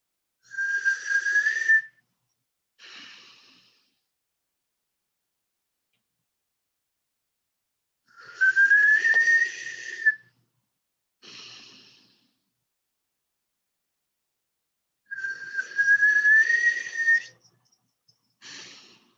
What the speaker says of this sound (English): So you're going to inhale and whistle and breathe out the nose.